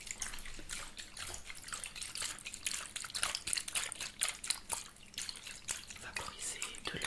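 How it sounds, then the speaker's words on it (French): Water is sprayed in soft, repeated hissing bursts with faint dripping in between, close and quiet, with no voice over it. "vaporiser de l'eau, d'accord, un petit peu partout"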